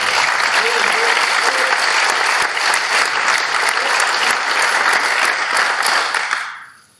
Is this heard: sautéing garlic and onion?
no